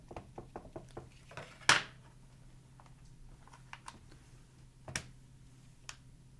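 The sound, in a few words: rubber stamp being stamped onto paper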